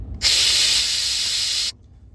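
A sharp burst of air hisses loudly for about a second and a half, then cuts off abruptly, as a Ram 1500 pickup's air suspension vents while lowering.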